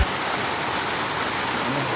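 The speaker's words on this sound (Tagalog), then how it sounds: "nabutan ulit ng ulan" Steady rain falls outdoors, a continuous broadband hiss with no talk, heard close and fairly loud throughout.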